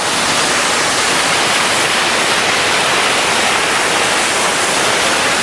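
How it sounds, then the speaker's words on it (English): Close beside a rain-swollen waterfall near Crummock Water in the Lake District, the plunging torrent produces a steady, thundering hiss of crashing water, loud and constant throughout with no speech. "you can feel the cold air coming on the coming from the force of the waterfall."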